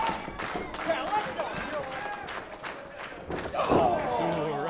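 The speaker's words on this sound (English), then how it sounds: "Colin Brooks getting that crowd fired up." Wrestling crowd at a live pro show, a broad steady roar of cheering with scattered claps and thuds from the ring, swelling louder near the end beneath commentators talking.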